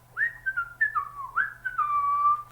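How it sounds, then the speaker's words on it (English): A man whistles a short, clear tune while building a house on sand, with gliding, swooping notes in a few quick phrases, close and fairly loud, ending in a sustained note, with no talking. "This won't take long, he says, and whistles as he works."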